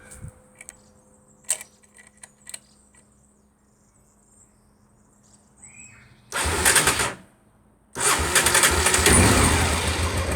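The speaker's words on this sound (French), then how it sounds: "je vais démarrer le moteur pour vous faire écouter ce bruit sympathique" A 1991 Honda Africa Twin 750 RD04 motorcycle, slightly cold, cranks briefly and then catches, settling into a loud, steady idle nearby after a quiet stretch filled with crickets and small clicks.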